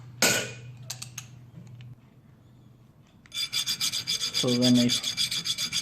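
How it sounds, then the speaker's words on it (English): A metal file works a screwdriver ratchet part: a few scrapes, a quiet pause, then a fast run of close, rhythmic rasping strokes. A couple of words are spoken at the start. "I will trim it with the filing, so you will see it will get shiny"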